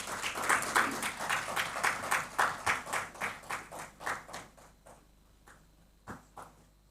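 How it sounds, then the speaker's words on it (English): Audience applause at a symposium in Accra, a burst of many hands clapping together that thins to a few scattered claps and fades out. "I think we can do another round of applause for her"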